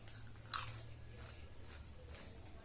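Crunchy potato chips from a BIM supermarket snack tasting are chewed close to the mouth, with one loud bite and crunch near the start followed by softer, quieter chewing.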